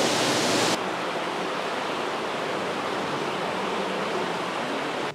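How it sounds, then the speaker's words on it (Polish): Steady, loud rush of an underground river flowing through a cave, a continuous broadband roar close by that stays constant from start to finish. "No już zbliżamy się do podziemnej rzeki. Słychać już jej szum"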